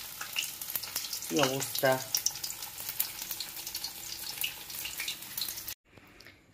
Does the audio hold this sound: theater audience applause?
no